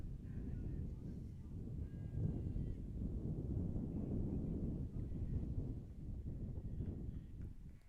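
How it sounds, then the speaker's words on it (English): Wind gusts across a baseball field, a low rumbling buffet that swells and eases over several seconds with no voices. "Wind gusting out here at Warren."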